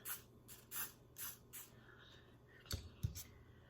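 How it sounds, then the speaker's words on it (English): Got2b hair spray hisses from an aerosol can in several short bursts, fairly soft, with light handling bumps near the end. "Now I'm gonna go ahead and spray some of this Got2b sprayed on it."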